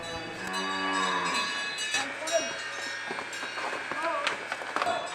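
Cows and calves lowing together in a barn at milking time, each calf brought to its mother; several overlapping moos, close and steady, with people talking underneath.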